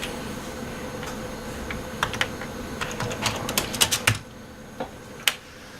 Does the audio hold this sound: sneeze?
no